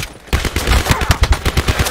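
Video game gunfire bursts in after a short quiet moment, then a loud, close run of rapid automatic shots in an even rhythm.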